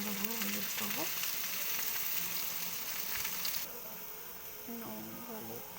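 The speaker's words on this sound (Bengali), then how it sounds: "নুন হলুদ দিয়ে এবার ভেজে নিচ্ছি" Mango pieces frying in oil with salt and turmeric for a village-style pickle, giving a steady close sizzle with bursts of stirring and crackle, and faint speech in the background.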